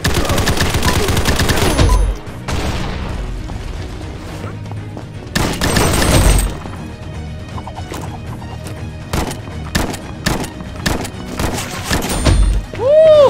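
Shotgun blasts in the Combat Master Battle Royale shooter, loud booming shots at irregular intervals, some in quick bursts, with other gunfire, crashes and game effects filling the gaps.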